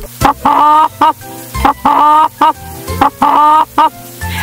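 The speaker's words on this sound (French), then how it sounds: "J'ai ajouté, au fait, les sons spéciaux pour avoir le cri là de la poule vers le début" AI-generated hen clucking, three loud bursts of rapid, pulsing clucks separated by brief pauses, close and clear with no voices.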